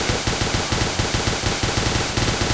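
Rapid, evenly spaced machine-gun bursts fill the whole stretch, loud and close, from a military firefight in the game Arma during the ColdHarbour mission, with no talk over them.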